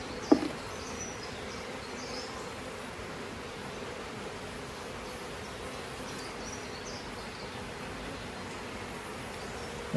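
Honey bees from an opened double deep colony being split, humming as a steady, faint drone that fills the whole stretch evenly, with a couple of brief knocks at the start and end.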